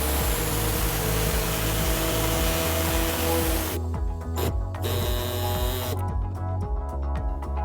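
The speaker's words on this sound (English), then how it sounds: "we're going to cut out this exposed part using an air saw" A pneumatic air saw cuts away an exposed section of the rear bumper on a 2017 Volkswagen Golf SportWagen, a steady close buzzing drone that drops out briefly in short gaps near the end.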